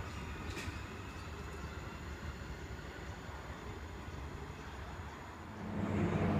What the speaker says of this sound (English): Doomben service, EMU 1, class leader, arriving into platform 2.